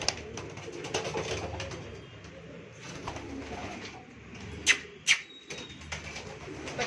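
Pigeons coo softly and repeatedly amid a busy outdoor background, with two sharper bird chirps standing out near the end.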